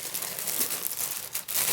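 A hand rummaging through a bag of tarot cards, a continuous close crinkling and rustling of card stock and bag material.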